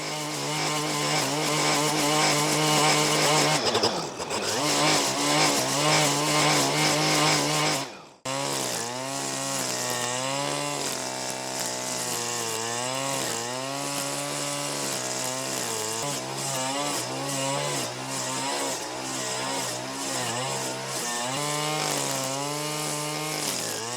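A Stihl string trimmer runs at high, steady revs for most of the stretch, dipping briefly twice as the trigger is released and squeezed again, then rising and wavering under load with no talk.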